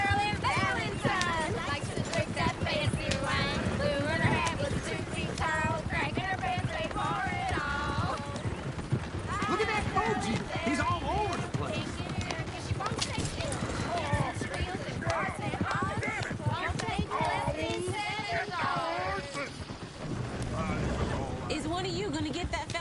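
Horse hooves clip-clopping at a steady trot in the Red Dead Redemption 2 video game, a continuous rhythmic clatter running beneath almost constant character dialogue and ambient outdoor game sound.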